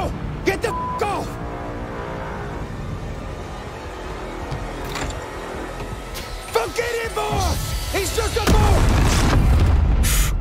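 Explosion in the video game Maneater, with a low boom near the end under the game's noise, while someone talks excitedly over the action.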